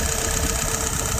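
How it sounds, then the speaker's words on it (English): A Yanmar YF 938SD tractor engine idles steadily at about 680 rpm, a loud continuous rumble with an even low-frequency throb and no speech. "Right now, she's idling at about 680."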